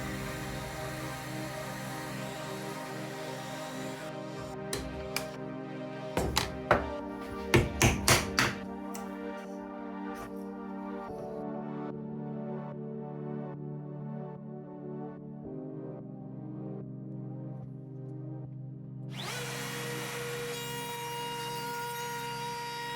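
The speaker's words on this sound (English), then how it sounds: "I can come back with a chisel and make slight adjustments" A chisel taps against wood while trimming shelf slots, a handful of close, sharp knocks bunched together and then several softer ones, alone against a steady hum.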